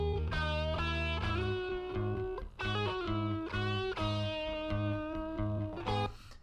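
An electric guitar with a distorted, effected tone plays a steady melody of sustained notes, while bass holds a firm, repeating low line underneath.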